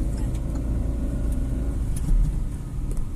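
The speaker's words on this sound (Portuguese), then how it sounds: "Enche o motorzão com vontade, que a subida é forte, tá? Pode fazer ele gritar mesmo." Car on a driving-school lesson pulling away on a steep uphill start with the engine revved hard; a steady, close, low rumble holds throughout with a slight surge near the end.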